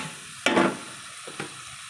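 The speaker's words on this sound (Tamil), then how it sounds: "கறியை போட்டு நல்லா கிண்டி விட்டாச்சு" Meat pieces being stirred into hot oil with ginger and garlic, one loud scraping stir burst near the middle and a softer one later over a quiet sizzle.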